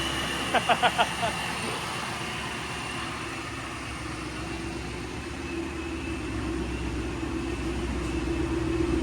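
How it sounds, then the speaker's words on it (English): A Ford Mustang engine with a supercharger blower runs at a steady loud idle, a low rumble with a whining tone on top, heard up close with a brief burst of beeps near the start. "That blower is very loud."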